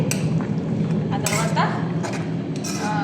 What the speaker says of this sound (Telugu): కొంచెం అలా పప్పు గుత్తుతూ టంగ్ టంగ్ టంగ్ అని నాలుగు దెబ్బలేసి